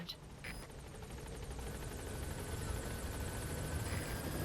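Pequod helicopter in Metal Gear Solid V arriving at a landing zone, a steady close rotor and engine drone that holds throughout.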